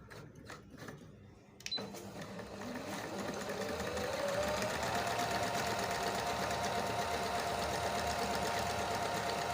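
A Singer Coast 9600 sewing machine starts up after a few clicks and settles into a steady, fast rhythmic whir while running overlock stitching, close and continuous.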